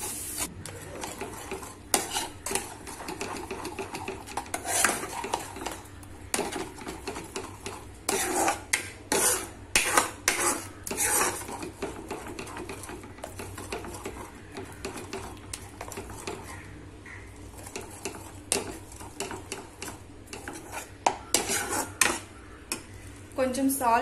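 Pizza batter stirred and mixed in a bowl after half a cup of milk is added, a run of close, irregular scraping and clinking strokes that repeats throughout.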